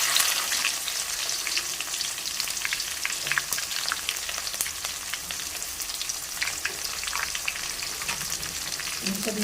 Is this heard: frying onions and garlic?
yes